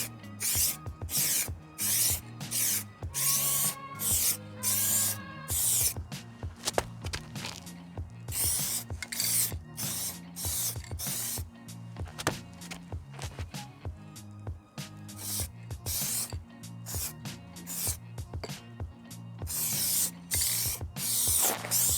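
Spray can bursts lay top coat paint over rusty metal, a rapid series of short hissing sprays with brief gaps, close and fairly quiet.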